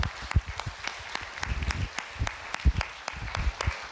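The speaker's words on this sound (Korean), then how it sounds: "여러분 하나님께 영광의 박수 올려드리겠습니다." A church congregation applauding, many hands clapping in a brisk, uneven patter at moderate volume, heard from a little distance.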